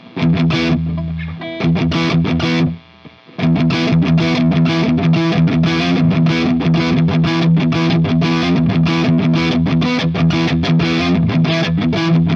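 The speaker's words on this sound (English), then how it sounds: "Again, metal tones, neck pickup." An electric guitar on its neck pickup plays a heavy distorted metal tone, dense chugging riffs played loud and continuously, with one brief near-silent break around the three-second mark.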